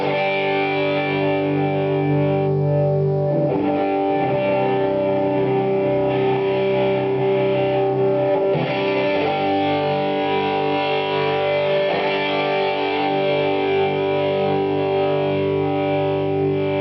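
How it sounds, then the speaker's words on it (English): Electric guitar through a compressed overdrive pedal on a Matchless Hotbox, a thick, sustained distorted chord wash that holds steady and loud throughout. "Hear the compression right there."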